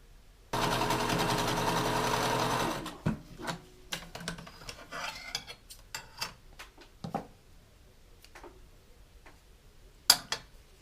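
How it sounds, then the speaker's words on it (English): A sewing machine stitches fabric crumbs into a crazy quilt block in one steady run of a couple of seconds, followed by scattered ticks and small clicks of handling. "So then I can just sew across these seams and not worry about the bottom getting tangled up in something."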